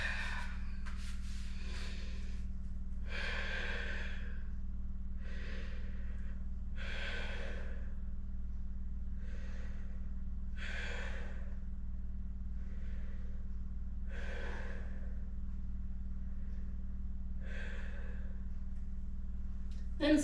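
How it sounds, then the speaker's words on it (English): Open-mouthed exhales during a yoga session, about eight soft breathy sighs at a slow, steady pace, heard close over a constant low hum. "Feel free to utilize the open mouth exhales and just let yourself settle down a little bit."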